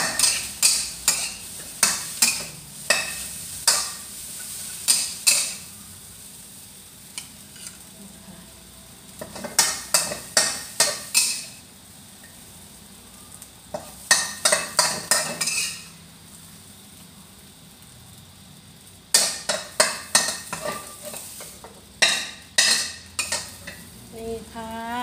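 Eggs being stir-fried in a pan, heard as bursts of a metal spatula clattering and scraping against the pan over a faint sizzle, in repeated clusters with quiet gaps, close and fairly loud without talk.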